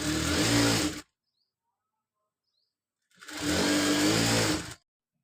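A sewing machine stitches sleeve lining cloth in two loud, steady whirring bursts of about a second and a second and a half, separated by a pause of silence.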